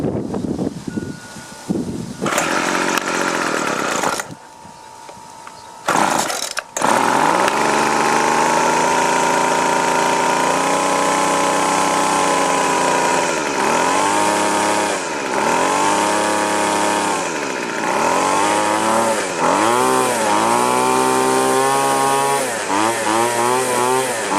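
A line trimmer's small two-stroke engine, running after a carburetor and filter replacement, fires up after a few choppy pulls and then runs loud and close, with its buzzing pitch rising and falling as the throttle is blipped repeatedly.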